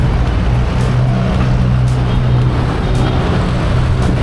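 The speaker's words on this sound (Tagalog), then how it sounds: "Alas 10 na, so nagbe-build up na ng traffic dito sa may Marcos Highway." Steady road traffic on Marcos Highway on a drizzly morning, a continuous low engine rumble and tire hiss from passing vehicles that holds loud and unbroken throughout, with no talking.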